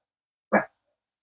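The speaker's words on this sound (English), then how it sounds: "He's barking." A dog gives one short, sharp bark up close, with silence before and after.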